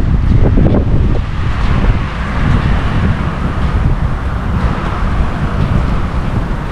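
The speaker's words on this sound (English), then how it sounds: "It is starting to rain already, guys. So, as you can see, it's pretty windy." Strong, steady wind ahead of Hurricane Milton in Florida roars and buffets the microphone, with a low rumble and gusty broadband noise throughout and no voices.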